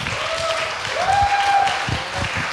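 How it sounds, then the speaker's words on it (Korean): A group of high school students in a classroom giving congratulatory applause, a steady wash of clapping with a whistle-like tone and some low thumps mixed in. "자, 축하의 박수 한번 주세요."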